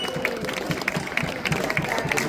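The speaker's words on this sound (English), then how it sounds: "Let's give her a big round of applause." Outdoor crowd at a St Pirans day parade in St Austell clapping in a moderate, scattered round of applause with background crowd murmur.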